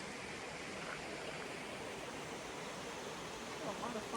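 Creek water rushing steadily past a gravel campground in Douthat State Park, where vehicles drive across it; a continuous broadband wash, fairly close, with no voices.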